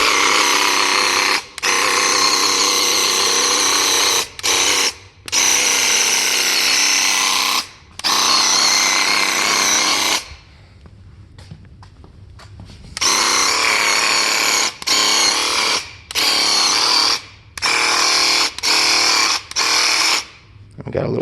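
A paint sprayer shoots leftover custom green paint in loud, close hissing bursts lasting several seconds each, separated by short gaps and one longer quiet pause midway.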